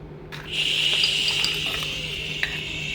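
Mutton being stirred in a pan for biryani, a steady close sizzle with soft scraping and occasional clinks of the spoon against the pan.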